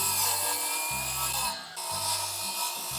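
A tool cuts into a wooden log about an inch deep with rough, rasping strokes. A low hum runs under the cutting in repeated pulses, and a short dip in the sound falls midway.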